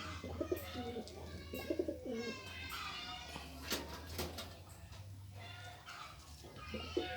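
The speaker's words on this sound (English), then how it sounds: "And that's my other pigeons. They're outside, chilling." Pigeons coo outside a loft, soft low repeated coos from nearby birds over a faint background hum, with occasional sharp clicks and rustles.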